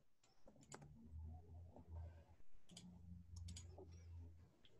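Computer keyboard typing during a German live stream, a quiet run of irregular soft clicks and taps in short bursts with brief pauses, faint and close, with no voices.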